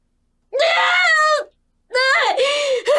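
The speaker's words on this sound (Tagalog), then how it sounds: "Isang sigaw na puno ng pagmamahal at sakit." A woman screams in a dramatized Filipino aswang horror story, two long, loud, wavering shrieks split by a short pause, close and alone.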